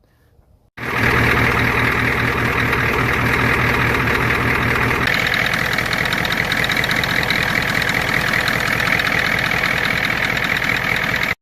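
An IDI diesel engine fires up after a moment of near silence and settles into a loud, steady idle with the typical diesel knock, heard close up and without talk.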